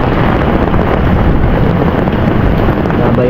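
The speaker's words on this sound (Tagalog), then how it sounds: "Nabayo tayo ng malakas na hangin ngayon." Strong wind buffets the microphone at a hammock campsite beside a flowing spring in Bani, Pangasinan, a loud, continuous rushing roar with no pauses.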